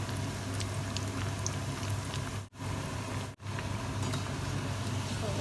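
Churma dough muthiya deep-frying in desi ghee, a loud, dense, even bubbling hiss that runs without letup, broken by two brief silent gaps.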